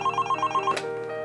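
A telephone rings in quick repeated pulses, about six short trills close and clear, then stops into a quiet hum before an answering-machine message for a country music radio show.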